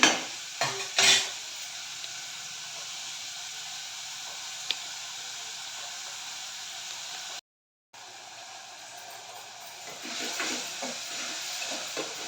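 Onion sautés in a pan for a mutton curry. A constant soft hiss of frying runs throughout, with a couple of brief utensil knocks near the start and a momentary dropout before the sizzle resumes.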